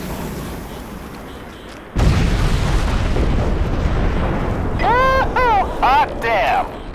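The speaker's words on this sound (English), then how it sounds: "Bombs away." Explosions rumble through a Crysis battle as bombs fall on a beach resort, opening with a sudden loud broadband blast and then a sustained roar, with radio voices talking over the end.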